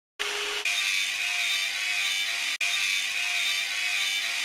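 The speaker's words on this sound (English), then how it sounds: "Drag the grinder along the bottom of the ship to clean it." A grinder cleans the bottom of a ship in a children's vehicle game, giving a harsh continuous whir that starts abruptly and carries on with one short break, loud and near.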